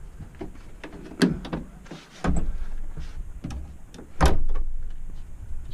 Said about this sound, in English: The back doors are done as well, so if I close those,